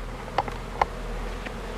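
Honey bees in an apiary buzz faintly, with a couple of brief louder passes as individual bees fly close by the microphone against a quiet steady background.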